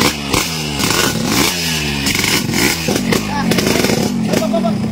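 A motorcycle engine revs close by in repeated rising bursts with rough, clattery firing, while voices talk and shout over the engine noise.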